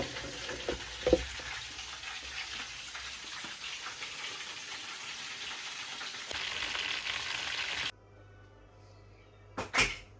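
KFC-style chicken deep-frying in hot oil at home, a steady broadband sizzle for about eight seconds that suddenly drops away, followed by quieter background and a couple of brief knocks near the end.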